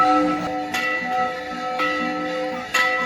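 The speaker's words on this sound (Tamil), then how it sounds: "எங்களுக்கு கோயில் மணி அடித்து நல்ல ஒரு வரவேற்பு கிடைக்குது" Temple bell at the Kataragama Murugan temple in Sri Lanka, struck several times at a slow, uneven pace, each ring sharp and metallic with a sustained shimmering ring that carries over a continuous background of bells and temple ambience.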